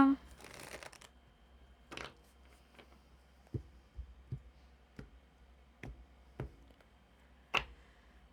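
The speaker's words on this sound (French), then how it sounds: "Maintenant, on va tirer les cartes pour la personne de votre cœur." Tarot cards being shuffled with a brief riffle at the start, then a series of soft, separate taps and clicks as cards are drawn and laid down one at a time, quiet and close.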